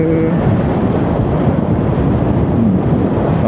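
Loud, rumbling wind buffeting against the microphone from a passing lorry while riding an electric motorcycle, steady and roaring, with traffic noise underneath.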